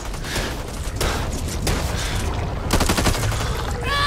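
Heavy automatic gunfire in the zombie shooter Back 4 Blood, rapid sustained bursts filling the whole stretch, loud and close, with rattling shots stacking over a dense roar.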